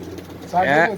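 Pigeons coo in a loft, a single throaty, warbling call rising clearly near the end of a short moment, with quieter bird sounds before it.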